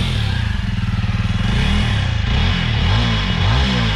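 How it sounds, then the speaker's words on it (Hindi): A Jawa 42 Bobber motorcycle engine chugs with a rapid, even thump, then is revved several times, the pitch rising and falling in quick surges. "स्टार्ट करते हैं और दिखाते हैं आपको कि आवाज़ कैसी है।"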